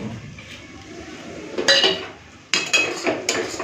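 A spoon stirring chopped coriander into a pan of loté fish curry, with a soft scraping that turns into sharp clinks and scrapes against the metal in a few close, irregular bursts.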